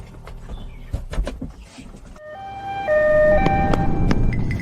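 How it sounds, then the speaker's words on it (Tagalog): An ambulance siren wails in rising and falling tones, starting after a stretch of clattering movement and growing louder and nearer toward the end. "yun na yata ang ambulansya na naghahatid sa nanay ko sa ospital"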